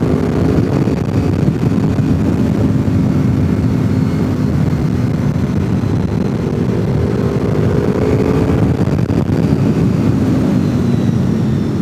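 Honda VFR 8th-generation motorcycle fitted with a Two Brothers full exhaust system, a steady loud engine drone throughout, heavily mixed with wind buffeting on the microphone.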